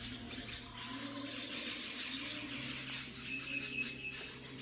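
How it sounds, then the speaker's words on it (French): Birds sing softly in the distance, scattered chirps and short phrases over a quiet outdoor background with faint insect-like buzzing. "Vous entendez les oiseaux?"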